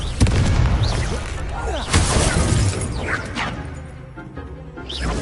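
Confringo fire-blast spells exploding in Hogwarts Legacy, a dense barrage of booming and shattering impacts over about five seconds, loud and continuous with sharp crashes near the start and middle, under an ongoing game soundscape.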